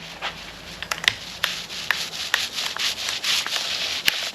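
Resin being worked by hand into 1708 fiberglass fabric laid over Coosa board for a DIY boat project, giving a steady close rubbing and scraping texture with a few sharper ticks, alone without talk.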